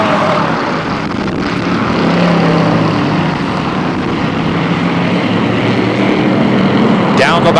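Thunder Car race cars roar through the final lap at Flamboro Speedway, a loud continuous engine drone with a race announcer calling over it.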